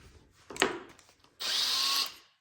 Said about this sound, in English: So what we're gonna do now is take a 1/4 inch drill bit.